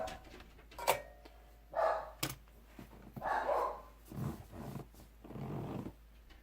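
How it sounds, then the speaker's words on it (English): Several dogs bark at a mail carrier in a series of irregular, muffled barks and growling bursts, faint and somewhat distant from the room. "Dogs went crazy barking at the mailman."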